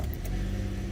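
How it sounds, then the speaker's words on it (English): 2010 Hyundai i10 with a 1.0 petrol engine and manual gearbox starting up, a brief close cranking catch into a low running engine, with a faint jingle of keys. "Start the car up."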